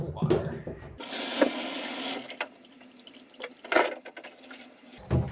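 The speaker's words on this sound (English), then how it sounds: "So I just added more water and vinegar because I wanted to make sure that all of the parts were covered" Water and vinegar poured into a bucket holding Elechomes humidifier parts to soak, a close splashing pour in bursts with handling clunks and drips between.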